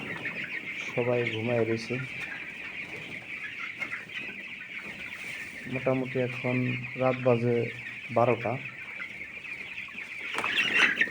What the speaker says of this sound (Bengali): আমি কিন্তু ফার্মে আছি আমার মুরগির সাথে